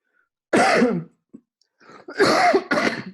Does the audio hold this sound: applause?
no